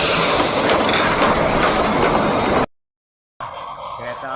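A toy Thomas train runs with a loud, dense whirring rattle that cuts off abruptly, then after a brief silence fainter mechanical buzzing and toy sounds return.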